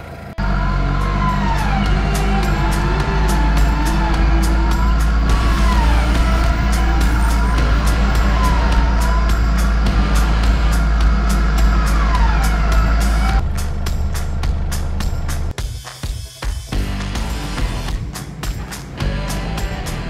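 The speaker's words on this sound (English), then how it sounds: "we're getting the winch out, and we're gonna try and winch out of here" A Rumba 11 XP electric winch hauls a 4x4 up steep Fulton's Track near Walhalla, Victoria, its loud steady motor whine wavering in pitch for about thirteen seconds before cutting out and leaving rattling knocks.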